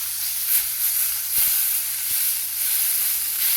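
Sirloin steak sears in a hot pan with a steady, close broadband sizzle, broken by a couple of faint knocks.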